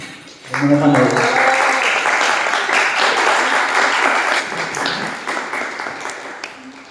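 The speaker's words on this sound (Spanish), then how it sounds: "recibámoslo con un fuerte aplauso" Loud audience applause welcoming a speaker at a lecture, beginning sharply after a voice and continuing as a thick, steady clapping that eases a little toward the end.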